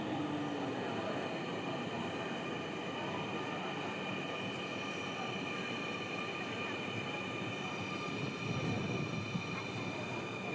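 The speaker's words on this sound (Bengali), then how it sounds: "এটা হচ্ছে আমাদের বিজয় সরণিতে ব্যাক করার ট্রেন।" A train rumbles steadily nearby, with a continuous mechanical drone and hum throughout.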